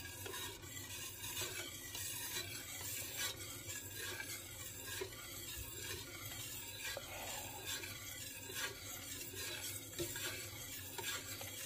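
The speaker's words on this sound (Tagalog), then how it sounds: "Hinahalo ko pa lang yung gata at saka mga ingredients" Coconut milk and other maja blanca ingredients stirred in a pot, a continuous scraping, swishing rub with a faint sizzle, steady and close with no pauses.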